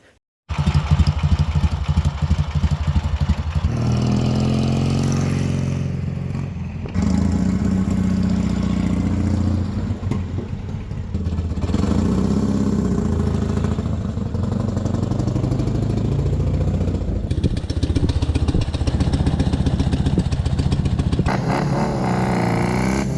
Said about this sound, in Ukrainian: Ще відрізняється звук двигуна за рахунок різної системи живлення і запалювання.